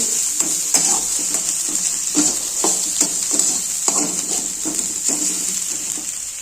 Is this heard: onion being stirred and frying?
yes